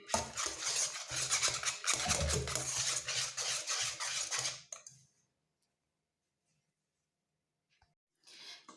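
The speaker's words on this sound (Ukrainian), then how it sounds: "І так, швиденько-швиденько я його розмішую" Egg and baking powder stirred quickly into a hot cake batter in a bowl, a fast, busy scraping and clinking that runs steadily for several seconds, then stops into near silence with a faint sound at the end.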